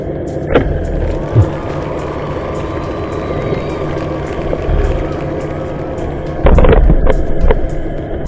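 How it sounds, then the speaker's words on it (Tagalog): A low, continuous mechanical rumble from a large ship at a pier drones nearby, broken by a few thumps and bangs, with a louder burst of rough noise near the end. "Ang ingay ng barko."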